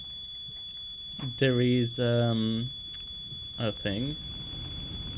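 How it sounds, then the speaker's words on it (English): A smoke alarm in The Sims 2 rings out as a thin, steady high-pitched tone running throughout, while a person talks over it in the foreground. "A fire alarm, at least."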